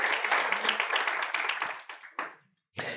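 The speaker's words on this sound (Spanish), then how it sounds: "Por favor, ofrézcales un aplauso porque nos sirven muy bien cada semana." A church congregation claps for the worship team after a Spanish-language service, steady dense applause that thins out, falters in a few last scattered claps and stops.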